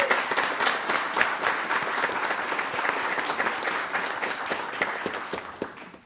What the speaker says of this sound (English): please stand up and we'll give you a round of applause